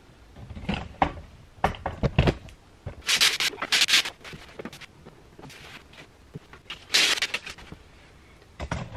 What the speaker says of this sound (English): you'd sand it down with the 220, use a cloth, wipe off the sawdust or the dust from the polyurethane that you just sanded